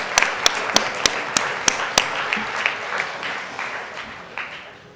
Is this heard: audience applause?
yes